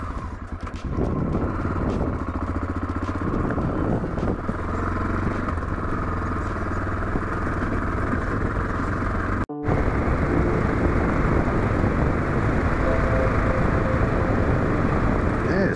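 A touring motorcycle's engine drones steadily at speed, with road and wind rumble filling the sound and a brief dropout partway through.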